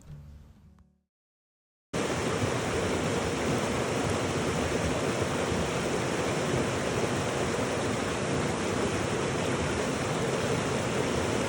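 A creek flows steadily in an outdoor spot used for laundry and bathing, a dense, constant rush of water close by and loud after a brief opening noise and a moment of silence.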